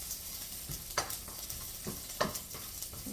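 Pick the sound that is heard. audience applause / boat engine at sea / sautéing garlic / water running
sautéing garlic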